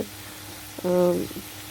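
A soft, steady sizzle of green tomato and potato frying in oil in a pan, with a brief scrape of stirring near the middle, close but low in level and without talking.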